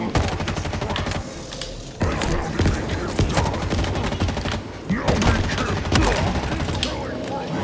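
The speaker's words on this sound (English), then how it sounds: "Who the hell is shooting me?" Heavy gunfire in the Halo Infinite video game: dense volleys of rapid shots and sharp impacts over nearly eight seconds, loud and continuous with brief lulls, with no talk.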